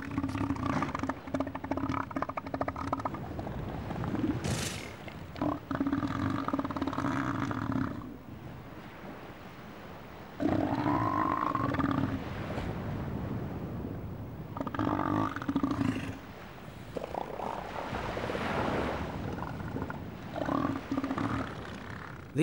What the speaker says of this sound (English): What is it about a bunch of elephant seals that puts me in mind of Tommy Walsh in the morning